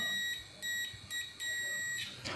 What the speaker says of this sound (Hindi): एंड यहाँ पर आप बजर के बाद सुन पा रहे होंगे।